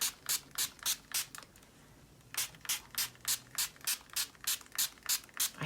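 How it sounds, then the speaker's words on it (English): Quick rhythmic squirts from a mister bottle onto paper: a short run of about six pumps, a brief pause, then a longer run of similar bursts. "I'm going to just spray at it."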